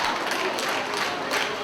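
Wrestling crowd at an independent show in Crystal River cheering and applauding, a steady wash of clapping and voices, moderately distant and even throughout the brief moment.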